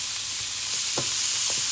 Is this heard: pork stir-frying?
yes